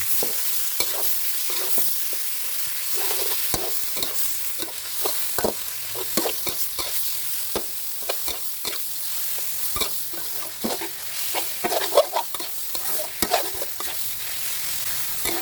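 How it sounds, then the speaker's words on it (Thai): Sliced pork stir-fries with curry paste for a Thai jungle curry, giving a steady, close sizzle broken by frequent clacks and scrapes of a utensil against the pan. "แกงป่าสูตรนี้เราจะนำหมูมาผัดกับพริกแกงให้หอมก่อนครับ"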